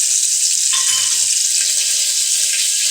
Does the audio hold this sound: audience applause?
no